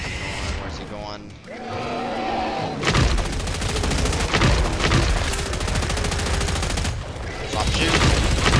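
Heavy automatic gunfire in Killing Floor 3, a loud sustained barrage of rapid shots after a quieter opening with game sounds and a voice, continuing almost without a break to the end.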